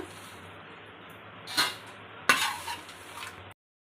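Food frying in a pan: a low steady hiss broken by two louder bursts of sizzling and crackling, close by, before the sound cuts off abruptly.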